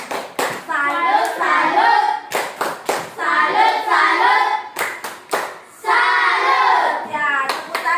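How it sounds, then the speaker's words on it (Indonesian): A school class claps hands in repeated loud bursts, with children's voices chanting in rhythm between and over the clapping. "Ya, tepuk tangan."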